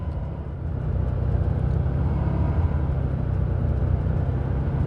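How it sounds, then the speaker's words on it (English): A car passing close on a hill, heard from inside another moving car: a continuous loud low road and engine roar that swells slightly after the first second and holds steady. "Somebody just passed me, and you would not believe how close they were to my bumper"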